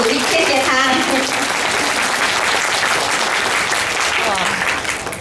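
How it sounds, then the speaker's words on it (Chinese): A crowd at a long-hook crochet workshop opening in a hall claps loudly and steadily for about five seconds, with some voices audible over it before it thins at the end. "请大家再给她掌声鼓励"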